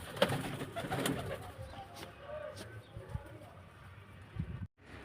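Soft pigeon coos murmur amid a busy background with rustling and shuffling, fairly close, with no clear voices in the foreground.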